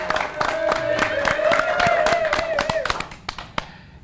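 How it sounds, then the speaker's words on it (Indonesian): A group of people clapping their hands together, fast irregular claps over a sustained voice-like tone, thinning out into a few scattered claps near the end. "Tepuk tangan lah kau."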